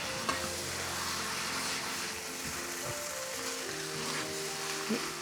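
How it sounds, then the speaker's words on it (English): Pad thai noodles being stirred through a pan, a steady sizzle with soft scraping and tossing throughout, no voices, at moderate loudness. "Stir them through the pad thai."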